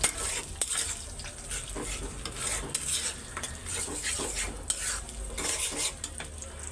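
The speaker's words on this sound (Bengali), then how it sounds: "তো এই যে ভাইজা নিতেছি" Potato chops (aloo chop) frying in a pan with eggs, a dense crackling sizzle under frequent clinks and scrapes of a spatula on metal, close up and continuous, with no voices.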